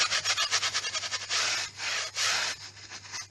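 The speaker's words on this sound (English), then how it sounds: "Again, wet brush, just scrub that." A wet brush scrubs interior brickwork in quick rhythmic strokes at first, then in longer, heavier passes. The rasping friction is close and fairly loud, with no voices.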